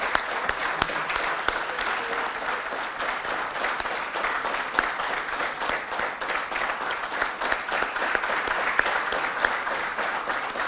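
An audience at a consulting conclave event applauds Mr. Rajesh Shivaturi with steady, dense clapping that fills the room evenly, loud and continuous without a break.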